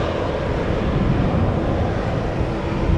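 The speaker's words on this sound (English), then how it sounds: "this is an A330 to Mumbai that is also coming this way" An Airbus A330, KLM flight 877 to Mumbai, passes at Amsterdam Schiphol Airport with a loud, continuous broadband jet roar mixed with wind rumble on the microphone.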